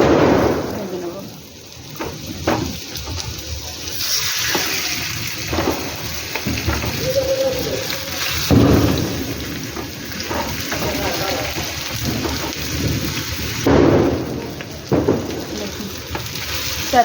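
Chicken pieces coated in gram flour batter fry on a hot tawa with a steady, close sizzle and crackle that swells and settles, with occasional clatter as pieces are placed and turned.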